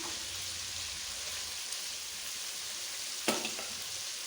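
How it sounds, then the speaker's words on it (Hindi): Chicken sizzles steadily as it fries in a pan, with tomatoes being added; a continuous broadband crackle runs throughout, broken by a brief louder clatter near the end, with no talking. "चिकन हमारा अच्छी तरह से फ्राई हो चुका है।"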